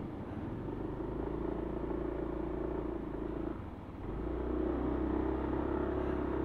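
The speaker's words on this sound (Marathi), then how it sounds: "पूर्ण गाडी स्कीट होत वरती आली, कारण तिथे वाळू जरा जास्त आहे" A motorcycle engine rumbles steadily while its tyres slip and skid up a sandy monsoon beach on the Kokan coast, dipping briefly midway before surging back louder and close by, with no talking.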